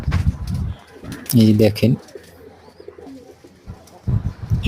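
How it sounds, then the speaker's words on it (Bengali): Pigeons cooing at a pigeon farm, a clear throaty coo in the middle with softer bird calls around it, close by, while someone talks at the start and end. "শখের কবুতর"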